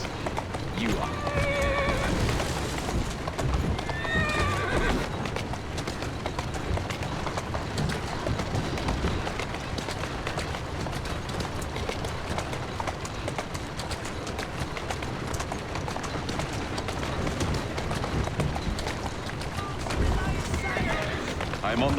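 A horse in the Assassin's Creed Syndicate video game whinnies several times while its hooves clip-clop steadily. Galloping and game ambience continue throughout, with a character speaking at points.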